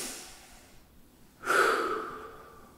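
Deep breathing during a shoulder mobility stretch: a slow, close exhale fades out, then a sharp, strong inhale swells and tapers off.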